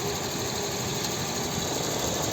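A 2007 VW Touran 1.4 TSI petrol engine idles steadily nearby, a constant low rumble with a faint mechanical hum and no voices.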